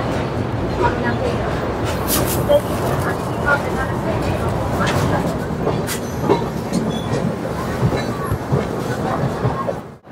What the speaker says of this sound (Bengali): আমাদের ট্রেন 130009 দুন এক্সপ্রেস এখন কিন্তু এসে দাঁড়ালো কাশী স্টেশনের 2 নম্বর প্ল্যাটফর্মে।